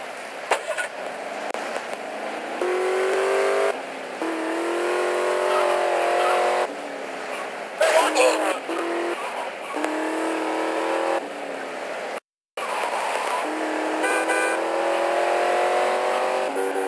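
A car driven in GTA: Liberty City Stories on the PSP, its engine droning and revving steadily up and down through gear changes, loud and close with brief breaks and a short dropout.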